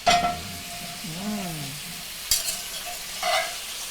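Food stirred in a hot pan with a steady sizzle, utensil scrapes and a couple of sharp knocks against the pan, close and alone with no talk.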